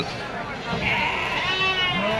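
Sheep and lambs bleat at a busy livestock market, wavering cries rising over a steady crowd din with people talking nearby.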